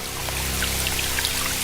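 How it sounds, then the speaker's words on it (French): Water poured into a homemade toy dollhouse shower: a steady, continuous trickling pour with light splashy patter, close and moderately loud, running alone without talk throughout. "Allez, et c'est la douche."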